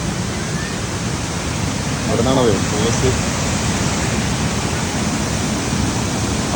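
Waterfall roaring loudly and evenly throughout, a dense, unbroken wash of noise, with a brief voice speaking under it near the middle.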